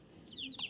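Motherless native country chicks let loose on open ground give a few faint, high peeps and soft clucks in a brief, quiet moment.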